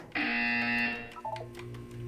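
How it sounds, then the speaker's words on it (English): A loud electronic buzzer from the game Portal 2 sounds steadily for about a second, a harmonic-rich tone that then drops into a lower, wavering mechanical hum with faint clicks. "When you hear the buzzer, look down at the floor."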